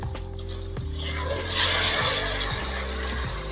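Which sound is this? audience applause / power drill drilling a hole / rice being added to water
rice being added to water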